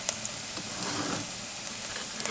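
Golden brown onions fry in a pan as spices go in for an urid dal, a steady close sizzle with soft crackles and light stirring taps, no voices.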